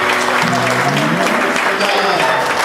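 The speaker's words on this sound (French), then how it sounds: "J'aimerais qu'on applaudisse fort." An audience at a music talk show claps loudly and continuously in a close, full wash of hand claps, with sustained tonal sounds running through the applause.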